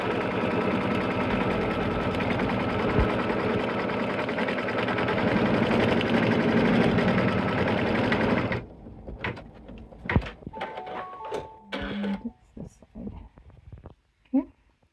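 A Kimberbell embroidery sewing machine stitching the tack down on a nativity bench pillow in a small 5x7 hoop, a steady close mechanical whir that runs for several seconds, then stops, leaving quieter handling clicks and a voice.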